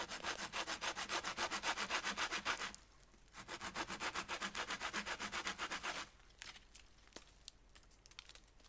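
Hand saw cutting into a piece of wood outdoors in Alaska, testing whether it is punky or dry: two close, steady runs of rhythmic back-and-forth rasping strokes with a short pause between, then quieter handling sounds.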